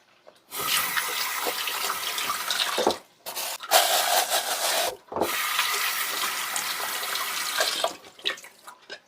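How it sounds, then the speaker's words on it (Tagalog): Two raw chicken breast halves are rinsed under a running tap, a steady splashing water stream that starts, briefly stops twice, then resumes before cutting off near the end; close and without speech. "Hugasan ko muna itong chicken."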